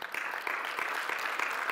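A church congregation clapping for the Lord during a fasting and prayer service, a steady patter of many hands at a modest level, slightly distant.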